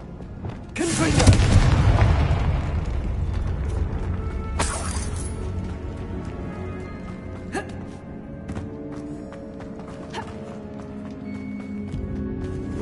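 A Confringo blasting spell exploding in Hogwarts Legacy, one loud booming blast with a long rumbling decay, followed by a second sharp crack and scattered debris ticks fading into quiet.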